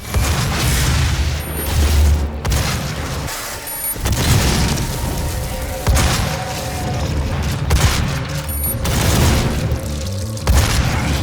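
Shotgun grenade rounds fired in a first-person shooter video game, heard as a series of heavy booming explosions with mechanical clanks between them, repeating roughly every two seconds, loud and close.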